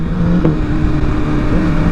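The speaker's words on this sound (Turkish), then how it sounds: "Egzozu da güzel ateş ediyor ya bunu." A Honda 1000RR sport motorcycle engine revs loudly at close range with a steady droning exhaust note and faint intermittent pops, without talking.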